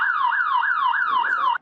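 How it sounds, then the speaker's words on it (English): A loud electronic siren blares from a neighbor's house in Van Nuys, sweeping up and down in a fast, regular wail about five times before cutting off abruptly. "if it wasn't the horn, it was his house alarm"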